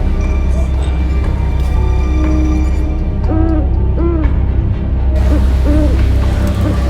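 Calls of a burung bence bird repeat several times as soft hooting notes, loud and close, over a steady noisy background.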